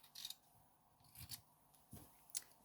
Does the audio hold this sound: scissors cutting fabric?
yes